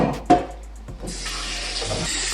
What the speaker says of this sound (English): I'm just rinsing off the string beans here